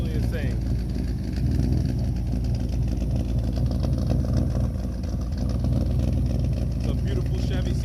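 A Chevy C10 truck's engine idles with a steady low rumble at close range inside a custom car shop, continuous and loud, with people talking over it.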